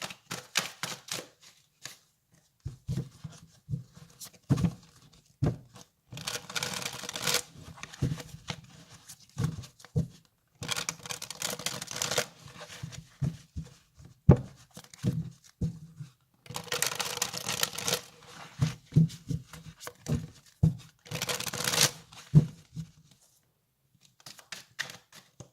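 Tarot cards are shuffled in repeated bursts of crisp riffling and flapping, broken by short taps and quiet gaps, close and fairly clear.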